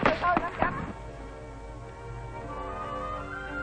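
Rifle fire from South Vietnamese soldiers training on a firing range with mobile advisory teams in Vietnam: several sharp reports in the first second, followed by a steady droning background of tones.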